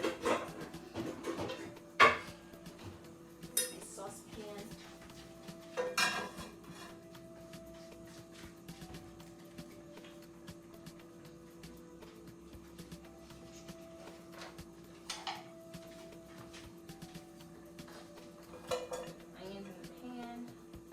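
Saucepan being pulled out, with a few sharp metallic clanks of pots and pans early on, then softer scattered clinks and rattles over a quiet background.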